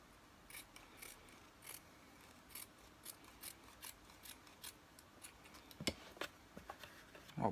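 Scissors cut around a circle marked in marker pen, giving a regular series of quiet, close snips about twice a second, sharper near the end, with no talk.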